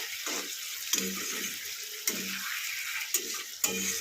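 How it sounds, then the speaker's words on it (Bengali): Coconut milk goes into a simmering Katla fish malai curry with a steady bright hiss and bubbling. Soft pouring splashes and small clinks break in at intervals, close up and with no talking. "এবার দিয়ে দেবো নারকেলের দুধটা"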